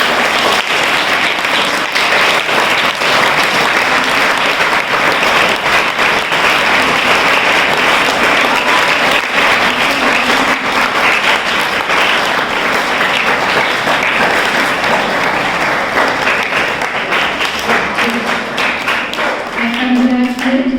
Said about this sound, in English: Just clap the hands for them.